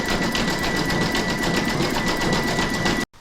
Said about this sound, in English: pop your hoop back into your machine and stitch round number 7, and that's going to zigzag around the raw edge here